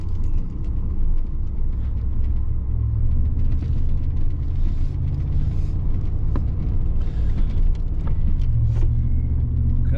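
A Ford car's engine rumbles loud and unbroken as it climbs a steep driveway, a deep constant drone that holds for the whole stretch with no pauses or talk.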